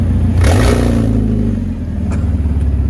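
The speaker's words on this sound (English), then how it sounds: "Rev it up." A BMW engine with a damaged catalytic converter revs sharply up and falls back, then idles with a rough, raspy rumble nearby.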